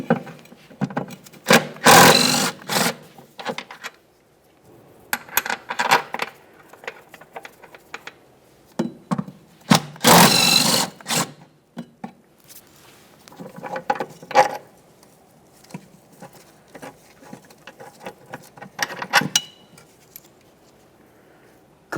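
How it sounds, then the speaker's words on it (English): A 14mm wrench works the mounting bolts of a rear upper control arm on a 1994-1997 Honda Accord, giving irregular bursts of ratcheting, scraping metal clicks separated by quiet gaps. "We'll use a 14mm to remove each of our 2 mounting bolts holding the upper control arm to the body of the"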